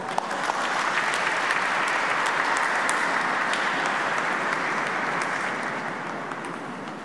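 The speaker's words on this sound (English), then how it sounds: "let us give our newly baptized sisters a warm round of applause" A congregation applauds inside Manila Cathedral during an Easter Vigil Mass, a broad, sustained wash of many hands clapping that fills the reverberant space for several seconds at steady loudness before easing slightly toward the end.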